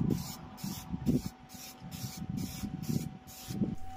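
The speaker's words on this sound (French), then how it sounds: "Je passe ensuite 2 couches de peinture noire satinée, toujours en bombe." A spray can applies satin black paint to a 3D-printed part in short repeated hissing bursts, about seven in four seconds, close and fairly quiet, with a faint steady background tone.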